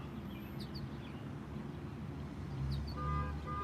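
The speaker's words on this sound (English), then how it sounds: "There's a car alarm." A car alarm on a city street blares in steady, repeating electronic tones over a low traffic rumble, joining for the last second or so, with faint bird chirps earlier.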